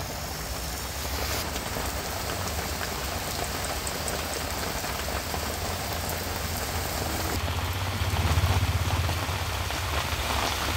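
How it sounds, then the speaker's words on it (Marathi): Heavy monsoon rain pours down over Mumbai's western suburbs in a steady, dense roar that doesn't let up, swelling briefly louder near the end. "मुंबईतील पश्चिम उपनगरात जोरदार पाऊस पडतोय"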